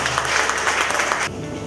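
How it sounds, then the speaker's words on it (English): Applause from an audience at a testimonial event, a dense burst of steady clapping that runs for about a second before cutting off sharply. "Can we give a round of applause for Mr."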